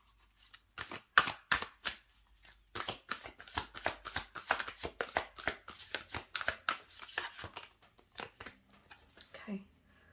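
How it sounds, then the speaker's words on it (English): Oracle cards are handled and shuffled close up, giving a run of quick papery riffles and slaps in uneven bursts, with a short gap near the start, during an archangel pick-a-card reading. "I dropped the deck of cards a bit"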